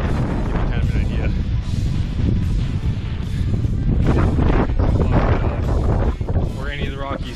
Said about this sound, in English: the wind picked up as soon as we came out of the trees